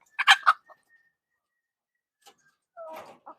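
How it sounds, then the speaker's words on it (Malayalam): A few short clucks from a hen nearby, a quick burst at first, then a pause and another throaty cackle in an otherwise quiet setting. "അപ്പൊ നമ്മുടെ കോഴികളൊക്കെ ദേ ഇവിടെ ഉണ്ട്"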